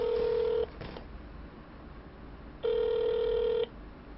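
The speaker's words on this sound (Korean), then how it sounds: "전화 받으세요." A telephone rings in two electronic tone bursts, a short one and then a longer one after a pause, heard faintly over quiet room noise.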